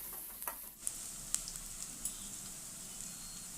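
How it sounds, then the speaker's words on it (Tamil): Chopped onion fries in a pan for kasamusa gravy, a faint, low sizzle with a few light ticks and clicks of a utensil, quiet and without talk. "இந்த வெங்காயத்தை வந்து நல்லா வதக்கி எடுத்துக்கலாம்"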